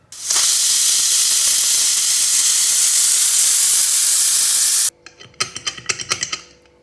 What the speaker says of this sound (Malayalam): ഒരു വിസിൽ വരുന്നത് വരെ വേവിച്ചെടുക്കണം